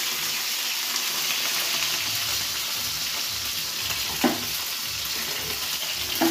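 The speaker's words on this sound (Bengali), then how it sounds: "চিকেনটা ভাজার সময় কত ছিটকাচ্ছে" Chicken pieces fry in hot oil that spits and splatters hard, a steady close hiss of sizzling with a few sharper crackling pops, no voices.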